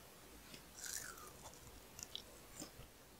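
Crispy karaage fried chicken coated without egg, bitten and chewed close up, with a few faint crunches and soft moist chewing noises, quiet and without speech.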